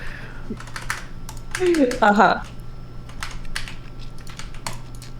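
Rapid clicking of computer keyboard keys being typed on, with a steady low hum underneath and a brief stretch of nearby voice partway through.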